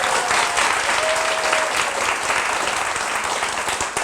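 Steady, dense applause from a lecture audience, loud and continuous throughout with no pauses, a faint voice briefly audible beneath it.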